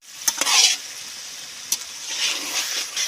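Masala-coated fish frying in mustard oil, loud crackling sizzle broken by sharp stirring clatters near the start and again midway, with no voices.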